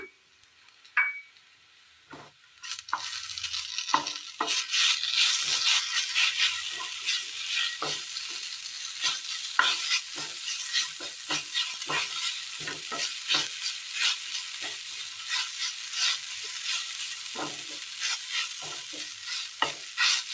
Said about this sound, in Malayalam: ഇതിലേക്ക് അരച്ചു കൊണ്ടുവന്ന വഴുതനങ്ങ കൂടി ഇട്ട് കൊടുക്കാം.